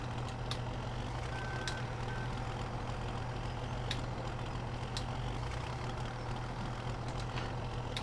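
Tractor engine idling in Farming Simulator 17, a steady low rumble held evenly throughout with a constant hum, broken by occasional faint high clicks and short beeps.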